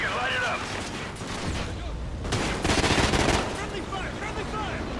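Rapid gunfire and explosive bursts crackle through a shootout in Call of Duty: Ghosts on the Atlas Falls mission, dense and continuous, with voices talking over the battle.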